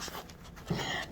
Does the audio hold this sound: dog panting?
yes